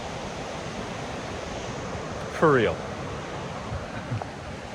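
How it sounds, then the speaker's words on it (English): Steady broad rushing of running water fills the whole stretch at an even level, with a voice briefly speaking over it near the middle. "I love some running water"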